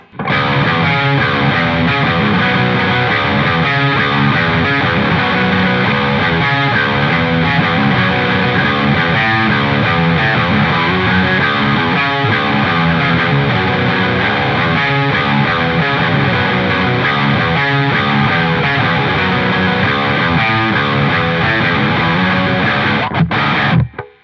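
Heavily distorted electric guitar, drop-tuned on the neck pickup, plays through a Revv G3 or Joyo Dark Flame pedal, dense, saturated chords ringing out loud and steady throughout.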